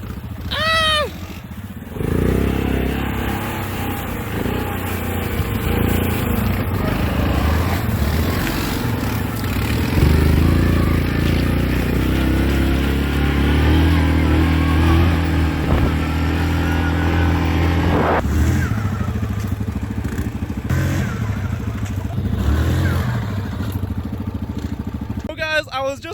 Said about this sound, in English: I was just doing a wheelie. Got the quad a little stuck, so I got a hitch on it.